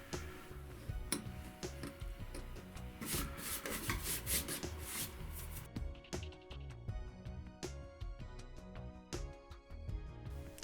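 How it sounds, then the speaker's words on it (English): Excess clay is trimmed from the top edges of a model cobblestone street's sidewalks. Close, continuous scraping and rasping is broken by small ticks and taps. It is steady and fairly quiet, with no voices. "it's also easy to trim away excessive clay from the top of the sidewalk edges"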